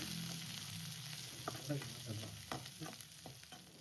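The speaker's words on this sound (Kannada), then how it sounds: "ಕರಿಬೇವು 2 ಹಸಿಮೆಣಸಿನ್ಕಾಯಿ ತೊಗೊಂಡಿದ್ದೀನಿ, ಸ್ವಲ್ಪ ಫ್ರೈ ಮಾಡ್ಕೊಳ್ಳೋಣ" Curry leaves and green chillies frying in oil in a pan for a tomato curry, a steady soft sizzle with scattered scraping stirs and a few small pops, close and moderately quiet.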